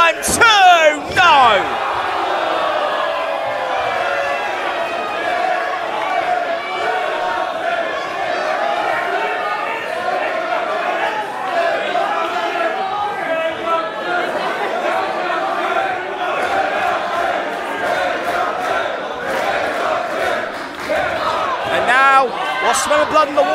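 A crowd at a live women's wrestling event cheers and chatters in a steady, dense roar, with louder whoops near the start and end, while a commentator talks over it.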